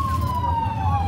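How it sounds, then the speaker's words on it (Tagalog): An ambulance siren wails in a steady, slowly falling tone, fairly close and loud, over low street rumble and background noise during a Christmas gathering. "May ambulansya."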